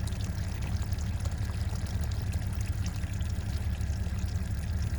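Steady, loud rush of water pouring and draining out of a recreational vehicle's flooded underbelly insulation, a continuous broadband splashing flow with no pauses and no voices.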